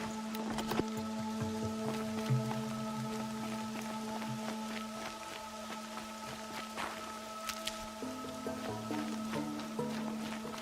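Steady rain falling in Horizon Zero Dawn, a soft continuous patter with scattered drop ticks beneath a sustained musical drone, no voices.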